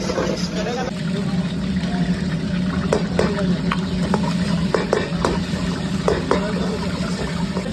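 Ginger, garlic and onion fry in a pan with green chili, a steady sizzle under a low background hum, with repeated clicks and scrapes of stirring, and a voice speaks faintly in the background.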